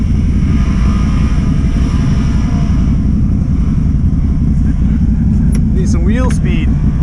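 An off-road vehicle's engine rumbles steadily and loudly, close by, as it builds speed for a run up an icy slope in a winter off-road park. Brief chirping or squealing sounds appear near the end.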